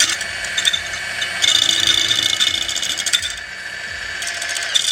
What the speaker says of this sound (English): So this one I'm gonna try the whisk right here.